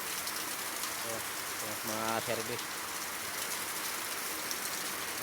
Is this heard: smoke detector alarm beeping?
no